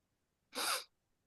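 A single sharp sneeze during a Zoom meeting, brief and breathy, in an otherwise quiet room.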